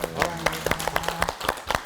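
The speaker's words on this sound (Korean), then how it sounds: "다시 한번 큰 박수 부탁드리겠습니다" Studio audience clapping for a Korean television lecture, with sharp, uneven claps in a brief burst close by under a host's voice.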